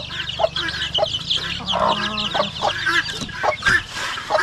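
Chicks and chickens cluck and peep close by in a steady, busy chorus of overlapping calls, with a low hum running beneath and no talking.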